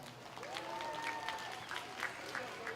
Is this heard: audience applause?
yes